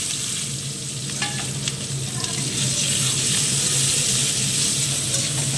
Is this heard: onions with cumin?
yes